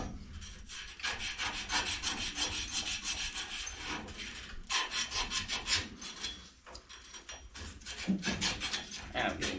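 Pipe ends being deburred before fitting a push-on SharkBite connector, continuous scraping and rasping strokes in an uneven rhythm, close and fairly loud throughout.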